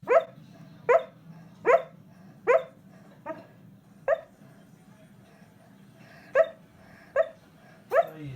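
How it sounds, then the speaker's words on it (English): A dog barking in its sleep lets out a series of soft, muffled woofs and yips at irregular intervals, about nine in all, over a quiet low hum. "I'm going to see if I can record some more of Sunny's dream barking in the next little while."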